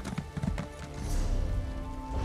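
Hooves of an Imperial Horse mount clip-clop in The Elder Scrolls Online, a quick run of close, fairly loud steps over a constant bed of game ambience and music.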